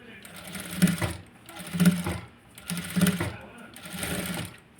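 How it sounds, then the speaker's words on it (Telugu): Sewing machine running in three or four close bursts of rapid mechanical whirring with short pauses, stitching over the lining of a garment with potli buttons and thread piping; a voice speaks faintly beneath. "ఇలా లైనింగ్ వైపుకి పైన కుట్టు వేసుకోవాలి"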